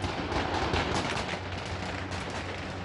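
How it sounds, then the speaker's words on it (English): Taliban fighters firing heavy gunfire into the air to disperse protesters, a dense rattling burst of shots in close succession, faint and distant with a rough noisy wash, continuing without voices. "Video footage from the scene showed people running for cover while heavy gunfire can be"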